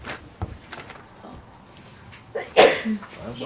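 A single sharp sneeze bursts out near the end of a planning board meeting, close and fairly loud, after a stretch of quiet room noise and faint shuffling.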